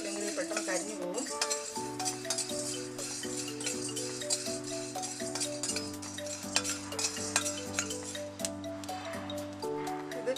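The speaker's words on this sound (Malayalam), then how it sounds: "ഫ്ലെയിം കുറച്ച് വെച്ചിട്ട് വേണം ഇത് വറുത്തെടുക്കാൻ വേണ്ടിയിട്ട്, ഇല്ലെങ്കിൽ പെട്ടെന്ന് കരിഞ്ഞു പോകും." Whole spices for chicken ghee roast dry-roasted in a pan over a low flame, a spoon stirring with light scrapes and frequent clinks against the pan, soft and steady under a faint tonal background.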